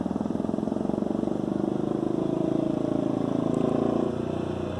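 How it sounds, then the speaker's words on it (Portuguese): A motorcycle engine drones steadily nearby, an even buzzing rumble with a rapid pulsing beat that swells slightly before easing off at the end. "Moto passando."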